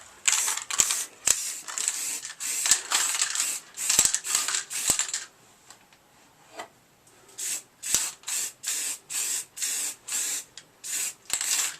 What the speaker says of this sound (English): Just spraying